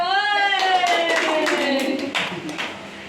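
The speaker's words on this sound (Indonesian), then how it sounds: "Gimana tepuk tangan coba?" A classroom of students clap their hands together in a brief burst of rhythmic claps, with a teacher's voice and a sustained tone running underneath.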